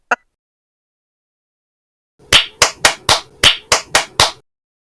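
Hands clap eight times in a quick, fairly even rhythm, crisp and close against silence, after one brief faint tick at the start.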